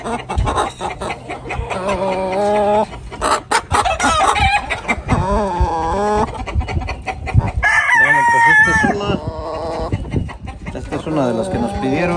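Hens cluck loudly and continuously while a rooster crows in the middle, the flock close and busy with overlapping calls.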